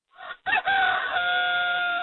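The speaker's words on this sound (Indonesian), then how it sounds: "Waduh, ada suara apa lagi yang pagi-pagi terdengar? Itu ayam jantan" A rooster crows once in the early morning, loud and close, with a short opening note and then a long held, quavering call that fills the rest of the moment alone.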